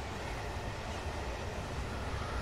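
Tokyo commuter train in Train Sim World rumbling steadily from outside, a continuous low broadband roar with faint rail noise and wind, no voices.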